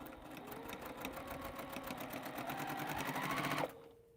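A sewing machine stitching small fabric rectangles runs at a steady fast needle rhythm with a motor whine that rises slightly, close and loud, then stops abruptly near the end.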